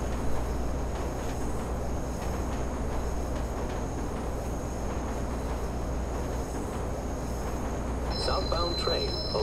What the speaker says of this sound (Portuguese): O próprio trem tá me levando.